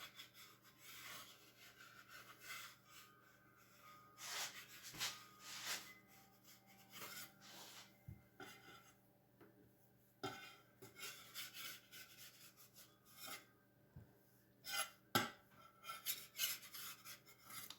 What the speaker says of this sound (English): got a spatula to help get it up off of the bar